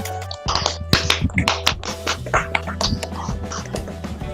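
A group claps together in quick, uneven bursts, many hands slapping close by with a lively irregular rhythm over a low background hum.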